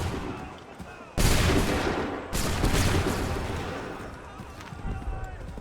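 Musket volleys ring out in an Assassin's Creed 3 battle, two sharp, loud broadband blasts followed by rolling, crackling gunfire that slowly decays, with shouted commands amid the din.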